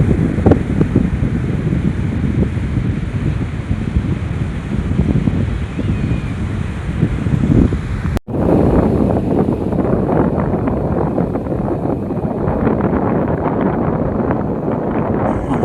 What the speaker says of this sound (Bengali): বন্ধুরা, সমুদ্রে উত্তাল করা ঢেউ খুব সুন্দর ও দারুণ লাগছে।